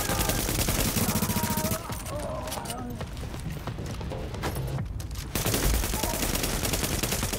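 Rapid bursts of automatic gunfire crackle continuously in The Division co-op firefight on PS4, loud and dense, with a brief quieter stretch in the middle before the shooting swells again.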